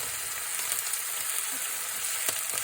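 Chicken sizzles in a pan for nacho and enchilada fillings, a steady close crackle and hiss with small pops, no voices.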